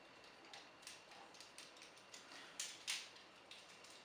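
Ratcheting joint on a Transformers Generations T30 Springer toy figure clicks in a series of quiet, crisp ticks at an irregular pace, with two louder snaps near the end, close up and alone.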